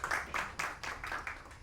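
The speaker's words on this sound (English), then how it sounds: "A big round of applause to the Leela Hotels." Brief burst of audience clapping for the Leela Hotels at an event with Grammy winner Ricky Kej, a handful of distinct clap surges rising and falling in quick succession, fairly close and moderately loud.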